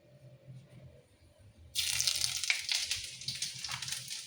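Quiet kitchen hum, then ginger is dropped into hot oil in a pan and bursts into a loud, bright sizzle that stays strong and crackling to the end.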